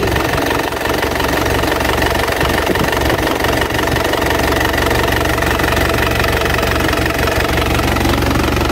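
A 2010 Isuzu Panther LV 2.5 turbo diesel engine idling with a continuous low rumble and faint rhythmic knocking, unchanging throughout, close and fairly loud with no voices.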